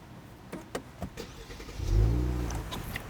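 A Genesis G70 with a 3.3-liter engine starts up after a few clicks and taps, the engine catching with a loud low surge that settles into a steady idle.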